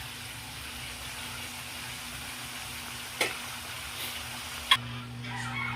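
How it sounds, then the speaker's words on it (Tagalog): Green papaya vegetables fry in a pan with a low, steady sizzle, broken by two brief sharp clicks, with a faint hum underneath and no talking. "Pagprito na. Kana mo na itong gulay."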